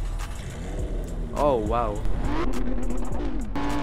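Lamborghini Gallardo engine in a Roblox driving game, rising and falling in quick revving sweeps beneath an excited voice exclaiming, with a steady low rumble throughout.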